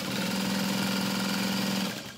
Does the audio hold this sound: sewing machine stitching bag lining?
yes